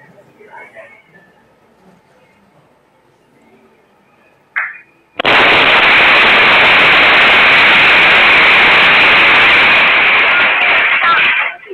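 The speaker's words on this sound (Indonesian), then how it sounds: "ini adalah ledakan hebat yang menghancurkan 5 rumah" A gas cylinder explodes: a sharp pop followed by a sudden, loud roaring blast of noise that holds for several seconds before cutting off, after faint quiet sounds.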